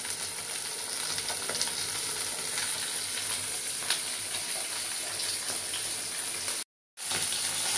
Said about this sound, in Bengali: এখানে কড়াই গরম হয়ে গিয়েছে আর আমি দিয়ে দিলাম মাছ।